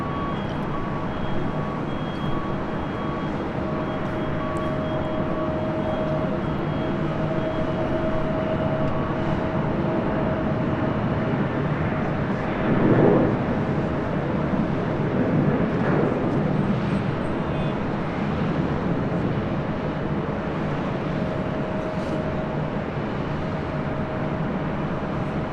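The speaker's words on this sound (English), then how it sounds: "KLM number 2 for departure." A KLM airliner departing from Los Angeles International Airport, heard as a steady, distant jet engine roar with a broad rumble that swells slightly midway and holds on without voices.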